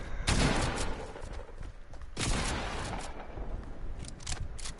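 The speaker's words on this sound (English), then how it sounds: "Gunshots." In a video game, two loud, booming gunshot blasts come about two seconds apart, each with a rough, noisy tail, followed by scattered lighter clicks and impacts.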